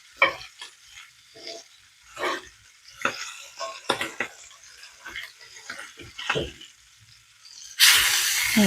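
A fish frying in a pan with a big spatula scraping and turning it, giving intermittent stirring clatters and bursts of sizzle, then a loud broadband hiss swelling at the end.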